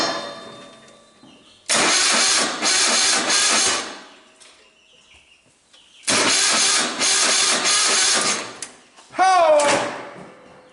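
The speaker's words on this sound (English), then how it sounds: "Turns over, baby." The starter of an MTD GT2050 lawn tractor cranks its engine in two loud, steady bursts of a couple of seconds each, with a pause between, heard up close. A brief squeal follows the second burst.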